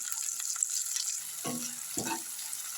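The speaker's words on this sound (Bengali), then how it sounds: "পেঁয়াজগুলো একটু ভালো করে একটু লাল লাল করে ভেজে নিচ্ছি" Onions sizzle steadily in hot oil in a pan, a constant bright hiss with two brief scraping stirs near the end.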